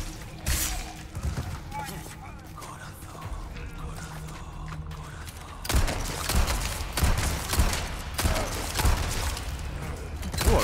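A grenade explodes with a sudden heavy blast in Resident Evil 4 Remake, Separate Ways mode, then loud, dense combat noise with rattling gunfire and debris continues to the end, over earlier quieter rumbling game sounds.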